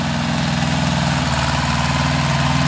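An 18 HP Kubota tractor engine idles close by, a steady, even chug with a constant low rumble and mechanical vibration that never changes pace.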